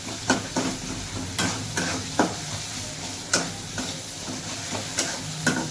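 Chicken kosha with cloves gets stirred in a pan, a steady sizzle broken by sharp scraping clicks of the spoon against the metal every second or so, close and moderately loud with no voices.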